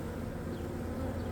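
A steady, dense buzz of honeybees swarms around exposed honeycomb during a bee rescue on a farm, continuous and close with no talking.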